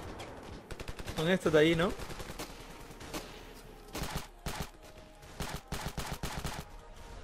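Gunfire in the video game Ravenfield comes in bursts of rapid automatic shots, loud and mid-distance, separated by brief pauses, with someone speaking briefly over the shooting.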